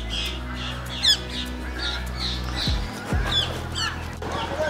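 Rose-ringed parakeets squawking at a deer park enclosure shared with geese, several sharp repeated calls over a low steady background hum, some fairly near.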